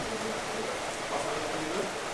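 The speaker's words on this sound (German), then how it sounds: "Guck mal, da fängt's einmal an zu regnen" Rain starts falling on a street, a steady soft hiss of drops that stays even through the brief moment.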